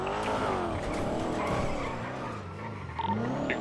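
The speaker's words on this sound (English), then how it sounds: "That's a police vehicle." A police car in the video game GTA V drives with a steady engine drone and rising, sweeping tire squeal as it skids, loud and continuous throughout.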